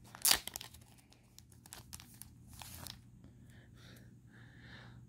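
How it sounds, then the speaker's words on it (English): A pack of baseball cards being torn open, with a sharp rip of the foil wrapper followed by soft crinkling and rustling of the packaging, close and quiet, with no speech. "And then I have another pack of cards I gotta open up."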